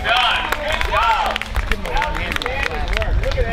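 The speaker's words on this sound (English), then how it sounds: "Big round of applause for everybody, please." A crowd claps and cheers for the racers of the first annual cardboard kayak race at City of Water Day 2013, a steady patter of applause under voices and loud nearby chatter.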